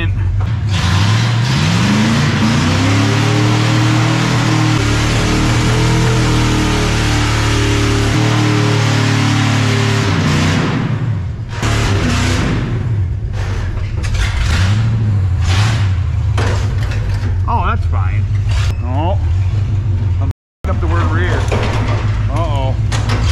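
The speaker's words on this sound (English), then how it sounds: "we might do a little burnout" Old Ford car engine revving hard and loud during a burnout, with rising and falling engine tones for about ten seconds, then rougher idling, mechanical clatter and voices talking over it.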